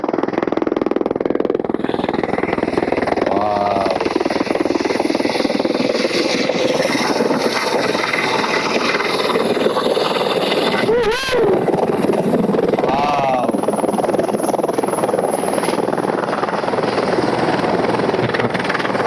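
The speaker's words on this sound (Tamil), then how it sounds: "வந்துருச்சு ஹெலிகாப்டர் வந்துருச்சு." Helicopter arriving to land at a mountain helipad on the Amarnath trekking route, its steady rotor drone loud and continuous throughout, with brief swelling passes and faint voices in the background.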